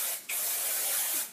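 Hairspray sprays over a top knot bun in close, loud continuous hissing bursts, with a brief pause between two sprays.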